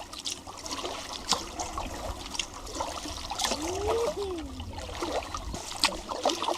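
A yellow canoe is paddled across a lake, with soft water trickles and splashes from the strokes, a faint brief tonal call in the middle and quiet background ambience.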